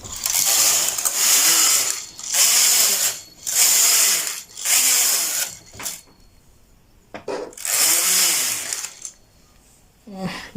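A domestic knitting machine carriage is pushed back and forth across the needle bed while knitting rows of a fringed skirt, producing loud sliding, clacking passes in a steady rhythm of about five sweeps, then quieter handling.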